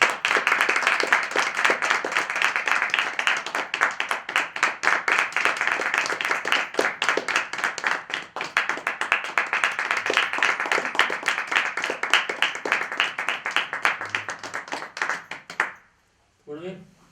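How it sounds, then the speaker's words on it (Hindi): An audience claps and applauds at a live event in India, dense sustained hand-clapping for about fifteen seconds before stopping abruptly, with a short burst of claps afterwards. "एक बार तालियां एक बार फिर से बजाएं महाराज जी के लिए"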